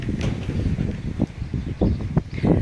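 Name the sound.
strong gusty wind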